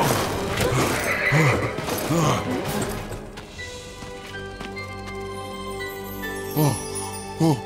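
A horse in an animated drama whinnies several times, with hoof clopping and jingling amid a busy scene; voices can be heard as well.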